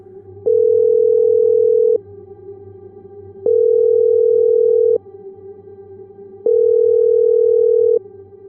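A telephone ringback tone sounds three times, each steady beep lasting about a second and a half with even gaps between.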